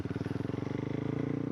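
A motorcycle engine putters close by, its rapid even firing pulses steady as the clutch is slowly let out and the bike begins to pull away, with no speech over it.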